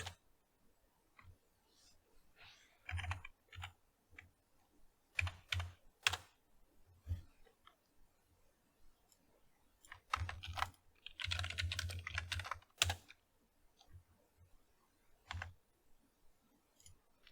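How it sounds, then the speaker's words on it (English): A computer keyboard is typed on in irregular bursts, with rapid clusters of key clicks broken by pauses. It is close and moderately quiet, and no talking is heard. "maybe I shouldn't keep typing in"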